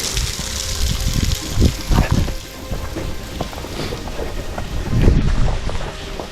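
Waterfall on a wooded trail during a 100-mile trail run, a steady loud rush of falling water with thumping footsteps and faint voices in the background.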